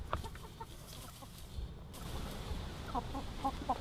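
Backyard laying hens clucking in short scattered bursts over a steady outdoor background, with a few clearer clucks near the end, moderately close but not loud.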